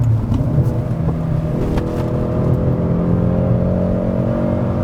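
A Hyundai Veloster N in race mode accelerates with a loud, steady engine drone from inside the car, its pitch climbing smoothly through the rev range.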